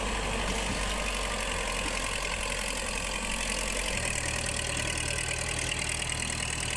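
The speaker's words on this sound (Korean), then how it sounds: "지뢰지대인 이곳, 콩을 심기 위해 트랙터 작업이 진행 중이다." A tractor engine runs steadily while working a minefield plot being prepared for planting beans, giving a constant mid-to-low mechanical drone with a slight shift in pitch partway through and no voices.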